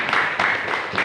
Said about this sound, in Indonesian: Beri tepuk tangan kembali.